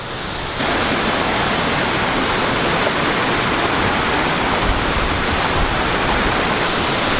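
A waterfall on a wet, rocky trail in rural Japan roars as a dense, continuous broadband wash, loud and close, with no pauses and no voices.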